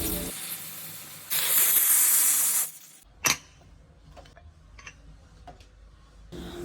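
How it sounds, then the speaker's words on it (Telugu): Pressure cooker on a stove while spinach dal cooks, giving a loud steady steam hiss for over a second, then a sharp burst, followed by faint clicks and ticks and a returning soft hiss. "నెక్స్ట్ కుక్కర్ మూత పెట్టి 2 విజిల్స్ రానివ్వండి."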